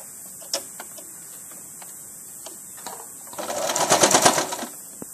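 A sewing machine stitches fabric for a roti cover: a few sparse clicks and light taps at first, then a short, loud burst of rapid needle chatter near the end, close by.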